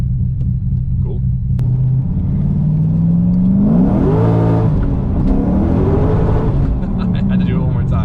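An LS V8-swapped Mazda RX-7 FD revs up close and loud, its engine note climbing and falling through several throttle blips over a steady rumble, with voices talking nearby.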